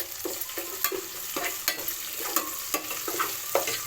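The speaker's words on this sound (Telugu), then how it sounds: "తర్వాత కొంచెం అల్లం వెల్లుల్లి పేస్ట్ వేసుకొని ఫ్రై చేసుకోవాలి" Onions with ginger garlic paste frying in a pan, a close, busy sizzle broken by repeated scraping strokes of a spoon stirring, with no voices.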